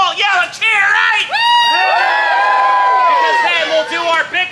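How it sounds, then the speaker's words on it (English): A Renaissance fair crowd yells and cheers together, a loud sustained swell of overlapping whoops and high shouts from many voices nearby, rising and holding for several seconds. "you'll all yell and cheer"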